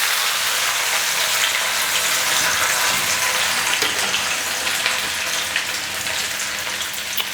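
Green chilli and ginger sizzle in hot oil along with cumin and asafoetida, cooking down for besan gatte curry. A loud, steady, hissing sizzle runs the whole time with no talking.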